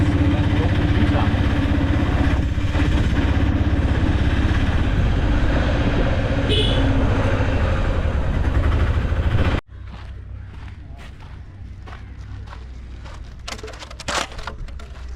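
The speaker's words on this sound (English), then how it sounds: "So we're in a tuk-tuk now on our way to the Dutch Palace" Tuk-tuk engine buzzing loudly while riding through Fort Kochi, a constant close drone for about ten seconds before dropping to quieter rumble with scattered clicks and knocks; people talk over it.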